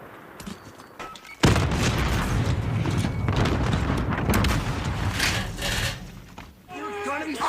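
Sustained loud video game gunfire and booming blasts burst in after a quieter opening and roll on continuously, with a voice talking over parts of it.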